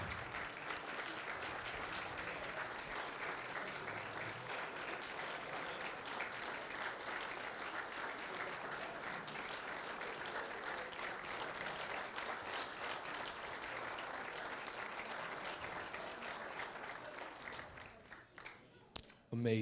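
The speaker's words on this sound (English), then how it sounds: "I think that deserves a round of applause." A school athletic hall of fame ceremony audience gives a sustained round of applause, dense steady clapping filling the room for nearly twenty seconds before thinning out near the end.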